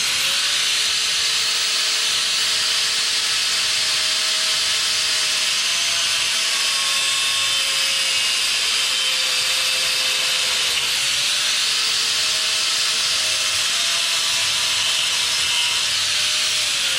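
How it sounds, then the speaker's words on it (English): An electric fan blowing in a workshop, producing a loud, steady broadband whoosh that runs unbroken throughout, with faint tonal whines drifting in and out beneath it. "I'm sure you guys can't hear me with this fan blowing in the background"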